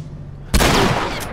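Gunfire in the video game The Last of Us Remastered, in a hotel level: a sudden loud shot cracks out after quiet ambience and rings on with a reverberant tail.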